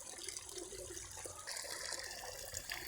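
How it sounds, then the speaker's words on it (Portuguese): Water running steadily at an offering site, a continuous splashing gush like a tap or small stream, fairly close and filling the scene without any voices. "vocês estão escutando aí o barulho de uma água"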